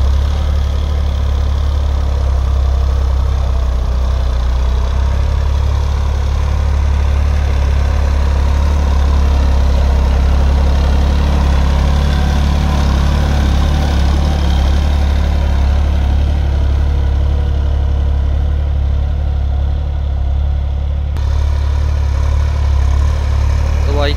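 A Massey Ferguson 9500 Smart tractor pulls a cultivator through a field at night, its diesel engine giving a steady, loud, low rumble without pause for the whole stretch.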